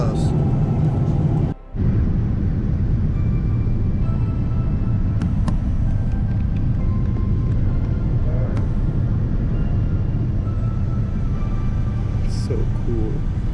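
Steady, loud airliner cabin rumble as the plane descends to land in England, a continuous low roar filling the space with a brief dropout early on.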